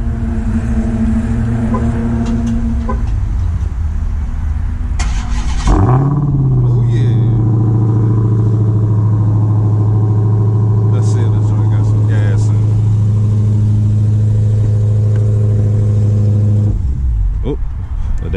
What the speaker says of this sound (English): we're gonna get a cold start real quick